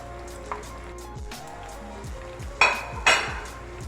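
Potatoes frying in hot oil for a chicken basket snack, a steady sizzle running beneath sharp metallic clinks and scrapes of a utensil against the pan, two of them loud and close.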